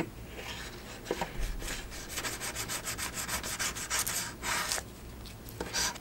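Sanding on a metal belt buckle ring, a steady abrasive rubbing in repeated strokes, close and moderately loud, with no talking.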